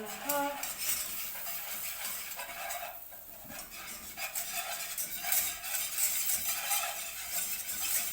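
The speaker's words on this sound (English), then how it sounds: "Stir it using your whisk." A whisk stirs flour into white sauce in a pan, giving steady scraping, clinking strokes against the metal that run continuously and fairly close throughout.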